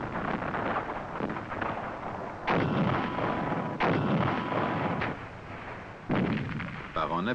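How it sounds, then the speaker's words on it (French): Anti-tank guns and long-range wire-guided missiles open fire from concealed positions during an infantry battle exercise, a dense barrage of booming blasts with several sharp heavy reports landing every second or so over continuous rumbling, sounding distant and somewhat muffled. "Les engins filoguidés à longue portée et les canons anti-chars ouvrent le feu"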